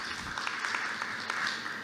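Brief applause from an audience at a community presentation on opioids, dense, moderately faint clapping with a few sharper claps over a couple of seconds.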